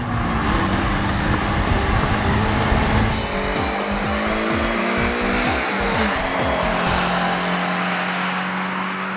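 Subaru BRZ engine downshifting on the road: a loud, close engine note with repeated quick revving blips and falling pitch sweeps as gears drop, over steady road and tire noise, with no talking.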